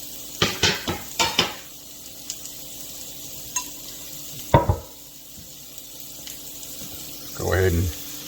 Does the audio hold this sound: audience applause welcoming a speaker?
no